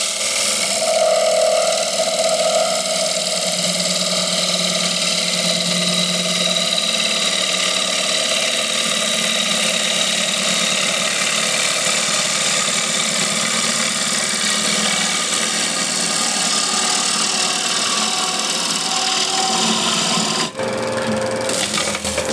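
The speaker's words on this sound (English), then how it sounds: "I switched to 16mm" Wood lathe turning a very hard wood bowl with a 16mm ball gouge, a steady, loud, continuous cutting hiss over the motor hum, close up and uninterrupted for about twenty seconds.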